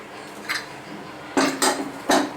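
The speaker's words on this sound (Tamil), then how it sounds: "நம்ம குக்கரை திறந்து பார்க்கலாம்" Pressure cooker of pongal being opened, a faint metallic tap followed by two louder clanks of the lid against the pot, close by.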